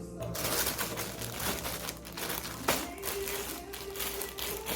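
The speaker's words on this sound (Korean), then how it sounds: "제가 마스킹 테이프를 진짜 좋아하는데 안 되겠다. 소리가 너무 커서" Close crinkling and rustling of tape being handled, with sharp crackles and a brief tearing sound, steady and fairly loud over a faint hum.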